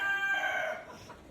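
A chicken brought in from Andhra Pradesh gives a single short, close call on a farm, with no voices.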